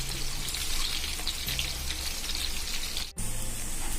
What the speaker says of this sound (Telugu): సో ఇలా లైట్ గోల్డెన్ కలర్ వచ్చేంత వరకు ఫ్రై చేసుకుంటే చాలు.